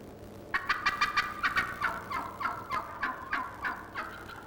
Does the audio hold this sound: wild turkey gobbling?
yes